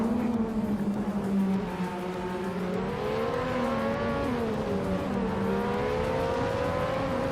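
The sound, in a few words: Ligier JS31 race car engine in racing video game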